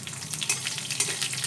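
Garlic cloves, dried red chillies and black cumin frying in hot mustard oil, a close, steady crackling sizzle with bright spattering pops throughout.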